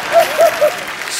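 A studio audience at The Kapil Sharma Show breaks into a brief, loud burst of clapping, with a voice briefly calling out over it.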